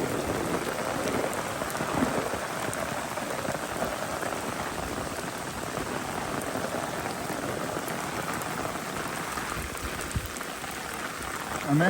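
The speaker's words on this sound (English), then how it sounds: "this is rain." Heavy rain pours steadily on the Appalachian Trail, a dense, constant hiss of drops striking surfaces close by with no break, and no voices.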